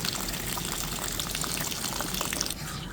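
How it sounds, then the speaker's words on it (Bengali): Hot water gushes steadily into a pot of vegetable curry on the stove, a close, continuous pouring splash that lasts a few seconds. "এই যে গরম জলটা দিয়ে দিচ্ছি"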